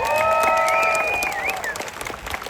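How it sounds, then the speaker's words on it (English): Guests at a celebration of life clap in a brief, fairly full round of applause that tapers off, while a sustained tonal sound, likely music or feedback, rings over the start. "Can you give one more time a huge round of applause to them?"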